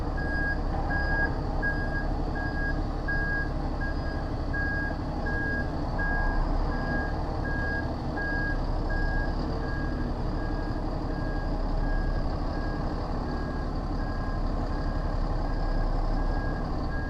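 A heavy truck shunting while tramping in the UK sounds a steady run of reversing beeps at an even rhythm over a low idling engine rumble, moderately close and without talk.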